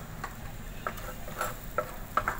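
Korean-style mozzarella fried rice is stirred in a hot pan with faint, scattered scraping clicks over a soft, low sizzle.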